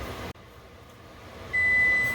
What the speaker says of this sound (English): so my timer's gone off.